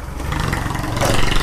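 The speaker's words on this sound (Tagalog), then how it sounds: "first time po nating mag-start ng big bike na motor" Yamaha MT-09 big bike engine turning over and catching, a loud close mechanical churn that swells into a firmer running note near the end.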